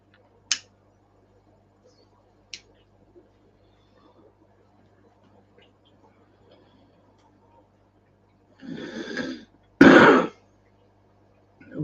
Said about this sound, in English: That was a good combination of cough and fart at the same time